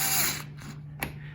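A power driver runs small screws into a metal face plate on a door, giving a brief high whine followed by ratcheting clicks and a sharp tap, close by.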